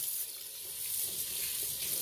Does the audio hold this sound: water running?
yes